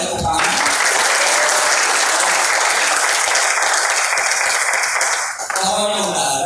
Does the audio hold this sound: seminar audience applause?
yes